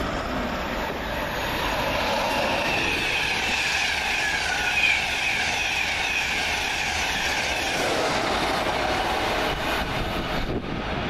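A Class 321 electric multiple unit, 321403, pulls into Peterborough station, a continuous rumbling roll of wheels on rails with a broad hiss that eases toward the end, no one speaking.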